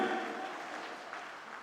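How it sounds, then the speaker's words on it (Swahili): A church congregation cheers and ululates together in praise, a dense, steady wash of crowd noise with thin trilling voices at the start, slowly easing in loudness. "mpigie Jehova na vigelegele vya shangwe"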